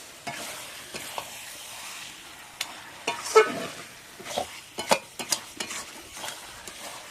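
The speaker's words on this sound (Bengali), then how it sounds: "মটনটা দেওয়া হয়ে গেছে, এখন আমি ভালো করে নেড়ে ঢাকা চাপা দিয়ে মাংসটাকে ভালো করে কষায়" Mutton stirred and fried in a pot gives a steady low sizzle broken by scattered scrapes and clatters of a spoon against the pot, growing busier toward the end.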